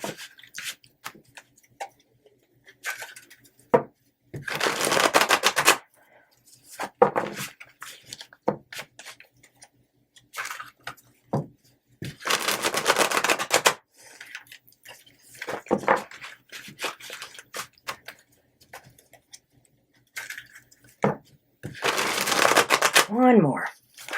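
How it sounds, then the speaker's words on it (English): Tarot cards shuffled by hand in several separate bursts of riffling and flicking, close and crisp, with quiet gaps between bursts. "One more shuffle for the Capricorns."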